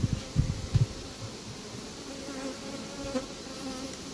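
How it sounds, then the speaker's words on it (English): Honey bees swarm over the top of a hive box in a steady close buzz, with a few knocks and handling thumps at the start and individual bees whining past. "with so many bees up there on top"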